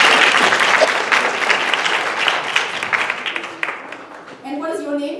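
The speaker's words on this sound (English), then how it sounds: "Please give a round of applause for volunteers." An audience at a women's health conference luncheon keynote breaks into sustained applause for volunteers, dense clapping that gradually thins out; a voice starts speaking near the end.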